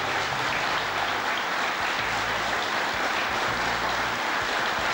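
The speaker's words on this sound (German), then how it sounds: "das Publikum applaudiert schon." Studio audience at a German television game show applauding, a broad continuous wash of many hands clapping at steady loudness, with faint low tones underneath and no clear talk.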